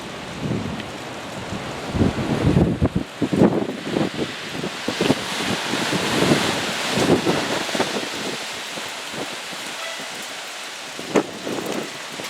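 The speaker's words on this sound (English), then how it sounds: "A lot of wind and lightning right now." Strong gusting wind during a lightning storm buffets the microphone in rough, uneven surges, loudest early on, with occasional sharp knocks.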